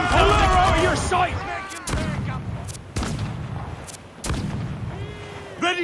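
Ship cannons firing during a naval battle in Assassin's Creed IV Black Flag, a series of loud booming blasts spaced about a second apart, with shouting crew voices over them at the start and end.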